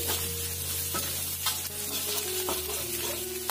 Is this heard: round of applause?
no